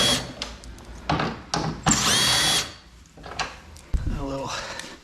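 A power drill or impact tool whirs in a sustained burst on the rear bumper bolts of an Arctic Cat Trail side-by-side, with shorter tool bursts and clanks of parts around it and someone talking between them.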